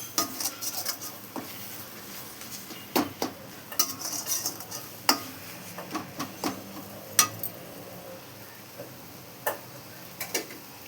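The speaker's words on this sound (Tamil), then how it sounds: "அந்த எண்ணெய் வெளியில் பிரிஞ்சு வர வரைக்கும் நல்லா வதக்கணும்." A spoon scrapes and clinks against a pan while ingredients are sautéed in oil, giving irregular metallic taps and stirring knocks at close range, with no talk.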